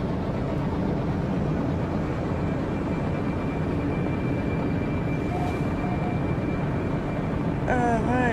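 Starship flying in the video game No Man's Sky, a steady, even engine roar held at constant loudness, with brief electronic tones near the end.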